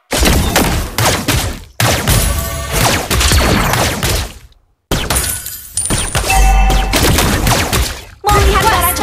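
Gunfire from the hero Layla's gun in the mobile game Mobile Legends, with dense bursts of sharp, loud shots and crackling impacts in rapid clusters separated by brief silent gaps, mixed with game effects.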